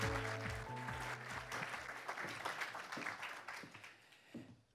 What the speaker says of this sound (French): On peut l'applaudir quand même.